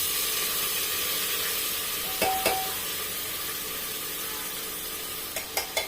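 Chopped onions sizzle in hot oil and ghee in a pressure cooker, a steady close hiss with a few stirring knocks and clinks of a spoon against the pot.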